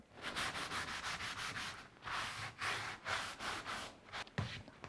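A cloth rubs Annie Sloan wax into a painted furniture sample in quick, rhythmic back-and-forth strokes, a soft close-up scrubbing with brief pauses.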